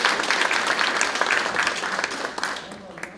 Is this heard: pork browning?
no